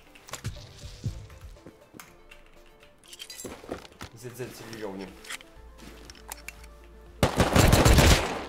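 Gunfire in the video game Rust: sharp shots and bursts crackle throughout, with a dense, loud volley near the end as voices talk excitedly over the action.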